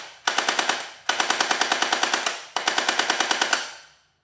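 An X-Force Gatling hand blaster toy fires in three rapid bursts, each a fast even rattle of sharp shots, close and loud with short pauses between bursts and a clean stop.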